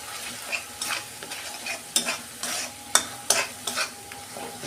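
Spice paste (masala) frying in oil in a home kitchen while being stirred, with a steady soft sizzle and repeated sharp scraping stirs at an irregular rhythm, close by, no talking.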